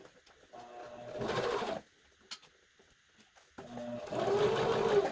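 A home sewing machine stitches fabric for a hospital face mask with a nose-wire section, running in two short whirring bursts separated by a pause, close and clear.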